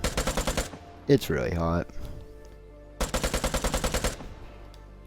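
A gold AK rifle fires in the Vigor video game in two rapid bursts of evenly spaced shots, with someone speaking briefly between them.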